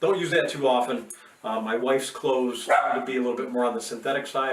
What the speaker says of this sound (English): and you can hear my dog in the background